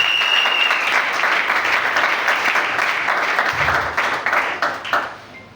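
A church congregation breaks into loud, sustained applause at a Sunday service, dense clapping from many hands that holds steady for several seconds before thinning out at the end.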